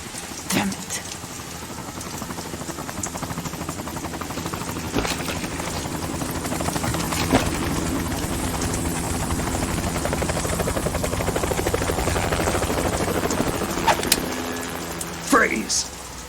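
Helicopter in the game Metal Gear Solid 2: Sons of Liberty, a constant loud rotor drone throughout with a few sharp transient clatters, while voices speak over it.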